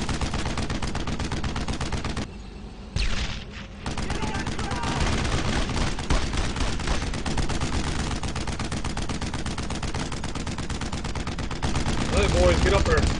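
Machine gun fire in Brothers in Arms: Road to Hill 30 rattles almost without pause as dense, loud automatic bursts mixed with other gunfire. A short lull breaks the shooting, and shouting voices sound over the battle.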